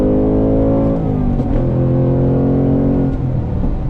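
A 2025 Ford Mustang Dark Horse V8 with a manual gearbox revs hard under acceleration, a loud, close, steady engine roar with a brief crackle of exhaust pops at a gear change partway through.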